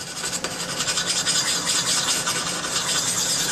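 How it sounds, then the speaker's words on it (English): Knife blade being sharpened, a steady rasping scrape that runs continuously and fairly loud with no pauses, like metal drawn repeatedly across an abrasive sharpener. "when you sharpen a knife, you're really getting some shavings, microscopic shavings"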